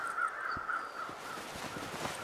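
Crows caw several times in a scattered series in the video game The Long Dark, moderately distant, over a steady background hum; no one speaks.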